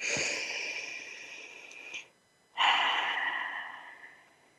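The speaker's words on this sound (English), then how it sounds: "let's take a collective breath together" A group draws a collective breath together: a long, soft airy inhale, a brief pause of near silence, then a broad breathy exhale that slowly fades, with no talking.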